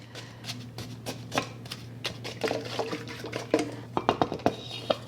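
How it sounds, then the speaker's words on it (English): A wooden spoon stirs melted ghee and brown sugar for Hawaiian rolls baked in a Dutch oven. Light scraping and irregular clicks against the bowl grow busier toward the end, over a steady low hum. "So I'm going to mix those together as well. Actually, I think I will use the wooden spoon for this."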